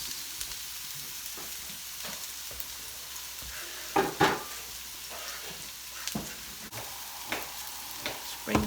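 Red onion hitting a hot pan for a beef and glass noodle stir fry, a steady close sizzle with a few sharper crackles and stirring clatters, no talking.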